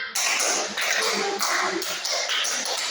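Children clap their hands together in a counted rhythm, a steady series of claps mixed with voices close by.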